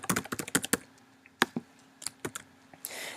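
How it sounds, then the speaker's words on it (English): Fingers type a username and password on a computer keyboard in quick, uneven bursts of close, crisp key clicks, with short pauses between runs and a soft rustle at the end. "Now I'm just going to type in my username and password"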